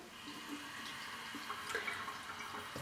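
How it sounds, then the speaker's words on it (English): Water runs steadily from a tap onto a piece of Polartec Windpro fleece fabric, a continuous splashing trickle with small drips and patters, close by and without talk. "I just wanted to run the water over it so you can sort of see the repelling properties"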